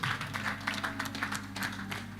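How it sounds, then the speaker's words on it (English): An audience at a prayer service clapping hands, a faint, fairly thin patter of scattered claps over a low background hum, with no clear talking. "Clap your hands for the sleepers."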